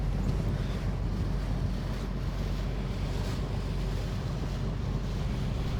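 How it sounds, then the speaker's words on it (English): A typical Greek fishing boat out at sea off Kefalonia, heard as a steady roar of wind buffeting the microphone over constant wave wash and low engine rumble, with no pauses. "we're here in it, amongst it, with a typical Greek fishing boat"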